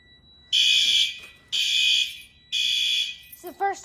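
Basement fire alarm system sounding: three loud, sustained, high-pitched electronic tones with short gaps in a steady on-off cycle, close by, with brief voices at the end.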